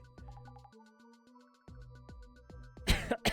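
A couple of harsh coughs near the end, close and loud, following quieter musical tones.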